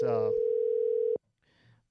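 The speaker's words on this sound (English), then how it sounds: "So let's get Drew on the phone" A telephone dial tone hums steadily for about a second as a call is placed, then cuts off into a quiet line with faint noise before a brief burst of sound at the end.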